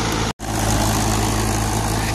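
A Mahindra 575 tractor engine drives a thresher, a loud, close, continuous diesel rumble with a brief dropout near the start, no talking.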